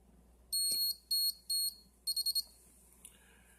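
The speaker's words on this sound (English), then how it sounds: "until the unit beeps." A wireless HVAC shutoff controller unit emits sharp electronic beeps: one long tone, two shorter ones, then a quick rapid run of four, followed by a lower fading tone in an otherwise quiet room.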